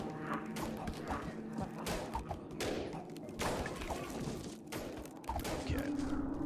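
Soldier units firing in They Are Billions, a real-time strategy game: quick, fairly faint volleys of small-arms shots and thuds scattered through the stretch, mixed with background game sounds.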